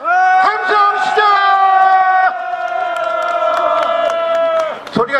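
A large crowd at a candlelight protest rally in Incheon roars a sustained, loud collective cheer, rising voices and whoops blending into a steady swell for about five seconds before trailing off.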